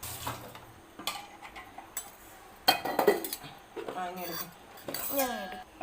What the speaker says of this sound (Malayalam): ഇത് നമുക്കൊരു പാത്രത്തിലോട്ടാക്കാമേ.